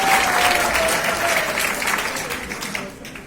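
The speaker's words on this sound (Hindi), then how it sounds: "जोरदार तालियां मतलब तालियां हमारे नेताजी के लिए।" Loud, dense applause from a crowd honoring a netaji, sustained throughout and easing slightly toward the end, with a faint voice or tone threaded underneath.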